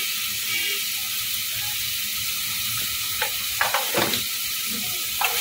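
Capsicum stir-fries with chilli and turmeric powder in a pan, a steady hissing sizzle throughout, joined near the end by a few louder spatula scrapes and stirring strokes.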